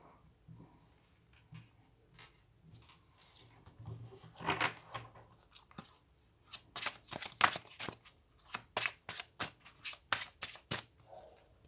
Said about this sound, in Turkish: Birkaç kart daha çekmek istiyorum.